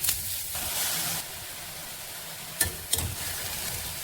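Onion, garlic and fenugreek leaves sautéing in a frying pan give off a soft, steady sizzle with a couple of brief clicks from stirring, fairly quiet overall.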